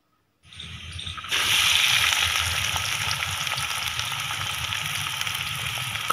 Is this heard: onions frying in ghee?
yes